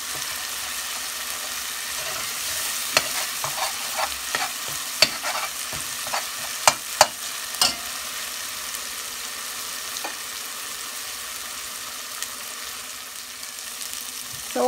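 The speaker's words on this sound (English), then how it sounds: "So it fried nicely down to the oil" A curry base fries in oil with a constant sizzle, while a spoon scrapes and taps against the pan in occasional sharp clicks.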